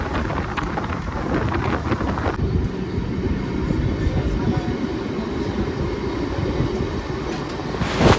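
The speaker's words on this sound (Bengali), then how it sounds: "এখন আমাদের ট্রেন ছেড়ে বেড়াচ্ছে" A passenger train on the Sahibganj to Malda line pulls away and runs on the rails, a loud, continuous rumble with rattling wheel noise close by throughout.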